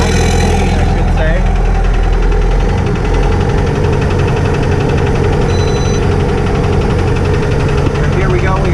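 A car engine idles in a custom Spryte build, a loud, steady rumble with a faint knocking texture that continues throughout while someone talks over it.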